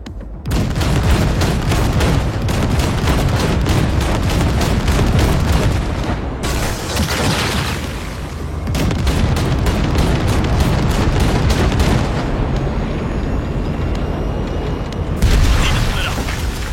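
Video game battle with explosives blasting open a monster gate: dense, loud booms and rapid crackling blasts in long sustained bursts, broken by short pauses, with voices speaking between them.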